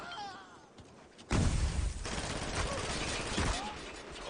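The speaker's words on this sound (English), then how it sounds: "I can't hit with a shotgun on point blank range." Shotgun blasts in the multiplayer shooter Spec Ops: The Line, a loud heavy crack around the midpoint followed by a run of rapid close gunfire and impacts, with a quieter stretch of game noise before.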